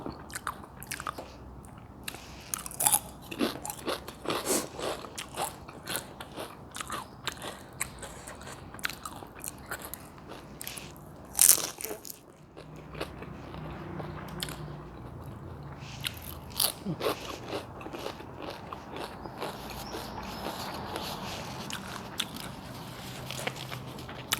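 Crisp homemade spring rolls crunch loudly up close, with repeated bites and crackling chews spread through the clip and no talking.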